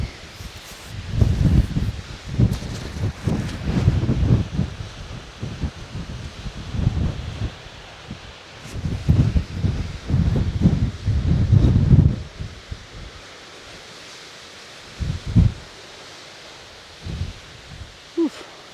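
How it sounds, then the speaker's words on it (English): Strong wind buffeting the microphone on an exposed remote countryside walk, roaring in loud gusts that rise and fall, with quieter lulls and a few short bursts toward the end. "amazing views, but let's get out of this wind"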